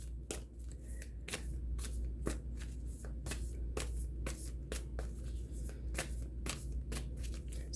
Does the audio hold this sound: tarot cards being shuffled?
yes